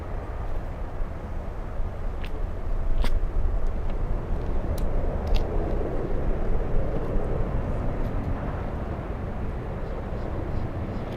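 An American airliner from Honduras on final approach to Miami International Airport during a storm, heard as a distant, steady broadband jet roar that swells slightly midway and blends into a constant wash of wind and ambient noise.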